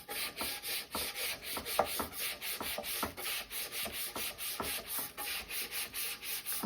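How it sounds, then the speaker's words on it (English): A small brush scrubs a George Foreman grill in quick, even back-and-forth strokes, a close, dry rasping that repeats steadily at about two or three strokes per second, with no talking. "Going to give this guy a good little scrub."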